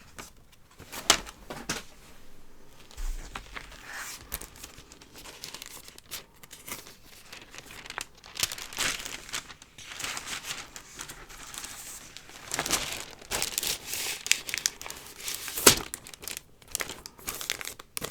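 White paper record sleeves are crumpled and crinkled by hand at close range, with irregular rustling bursts and sharp crackles that swell and fade across a quiet room.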